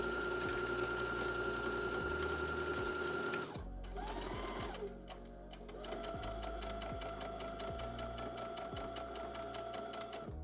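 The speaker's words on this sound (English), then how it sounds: "time to attach the shell and the lining with the basting stitch" A sewing machine runs a basting stitch joining a garment's shell and lining, a close, steady mechanical whir with rapid needle ticks that pauses briefly, then resumes.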